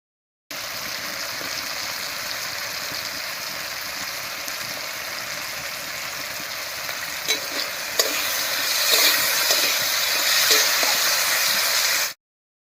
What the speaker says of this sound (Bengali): আলুটা একটু ভাজা ভাজা হতে থাক